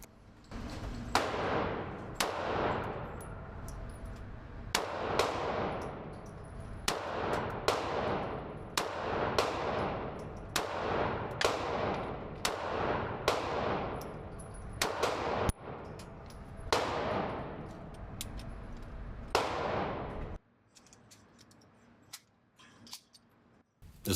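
A Beretta M1934 handgun fired outdoors, about a dozen sharp, loud reports at irregular intervals with brief ringing tails, the last shot followed by quiet.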